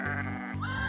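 A single sheep bleats close and clearly, one sustained wavering call with a short break midway.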